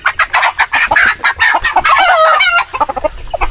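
Native heritage hens cluck in quick bursts while a rooster crows loudly over them, close by, with a noisy farmyard flock continuing throughout.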